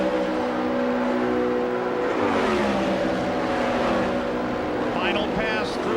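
An Indy 500 race car screams down the long front stretch toward the yard of bricks, its sustained high engine note rising and falling in pitch as it passes, heard beneath continuous commentary.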